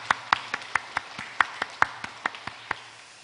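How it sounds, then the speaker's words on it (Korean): Members of a church congregation clap during a worship service, a sparse series of about a dozen distinct, fairly sharp claps at an uneven pace rather than a full ovation, with a low hum underneath. "우리 하나님께 영광의 박수를 같이 올려드리기를 소망합니다."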